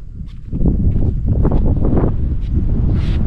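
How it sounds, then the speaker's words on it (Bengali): Gusty wind roars across a cloud-covered hilltop at Pabong in North Bengal, rising suddenly into loud, buffeting bursts against the microphone that continue to the end. "দারুণ হাওয়া।"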